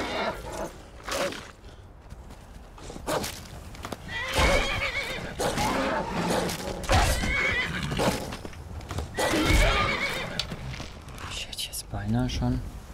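Horse neighing and whinnying in the video game Skyrim, with hoof clip-clops on a road, heard in several bursts under near-continuous talking.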